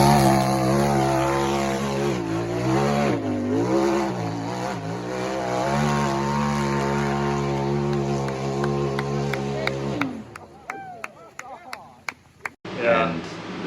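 A 260 Wheel Horse single-seater tube-chassis off-road buggy with a 110-inch wheelbase climbs a steep dirt hill, its engine droning loud and steady with rising and falling revs before cutting out, followed by scattered clanks and a brief final roar.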